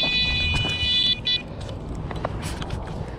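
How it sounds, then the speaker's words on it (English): A fishing bite alarm sounds a high, rapid electronic beeping for about a second as a carp takes the bait at a golf course lake, then stops, leaving outdoor rustling and movement noise. "I could hear the left bite alarm absolutely going wild."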